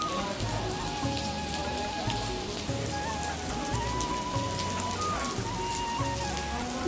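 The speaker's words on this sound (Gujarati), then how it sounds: "આવો વરસાદ પડે છે અત્યારે લાઠીની અંદર" Steady rain pours down on a village in Lathi, a dense continuous hiss of drops striking rooftops and ground, close and unbroken with no voices.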